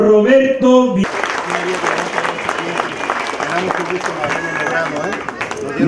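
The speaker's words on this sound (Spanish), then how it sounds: "Esos aplausos de todos ustedes." An audience at a public card-distribution event in Xochihuehuetlán applauds after a brief spoken announcement, with dense, sustained clapping mixed with crowd murmur and a voice over a loudspeaker.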